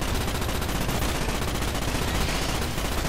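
Rapid, dense gunfire from the Starship Troopers video game, a continuous loud automatic burst running without a break for the whole stretch, with no talking over it.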